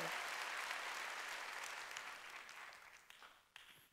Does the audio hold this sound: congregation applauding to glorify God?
yes